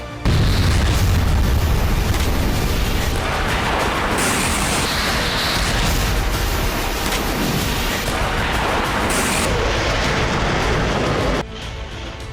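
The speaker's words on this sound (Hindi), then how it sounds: "यूक्रेन ने रूसी पोजीशन को क्लस्टर बम से टारगेट किया।" Cluster bomb blasts from the Russia–Ukraine war, striking Russian positions, roll together in a dense, loud, continuous rumble of booms and crackling pops that cuts off sharply near the end.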